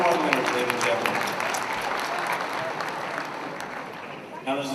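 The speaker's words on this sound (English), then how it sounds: "Yeah, you can clap for them, not a problem." An audience at an annual chamber of commerce awards gala claps for the award winners, a dense, sustained round of applause that tapers slightly toward the end, with a voice briefly audible over it.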